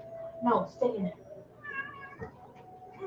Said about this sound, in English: cat's trying to get unruly and bossy